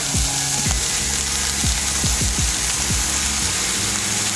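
Kashmiri red chilli powder, garam masala, coriander powder and turmeric saute in a pan for veg pulao, with a loud continuous sizzle. Repeated low knocks of a spoon or spatula against the pan are spread irregularly through it.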